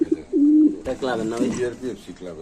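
Pakistani Giribaj pigeons at a pigeon sale, giving close, low cooing calls in short rolling phrases, with people talking in the background.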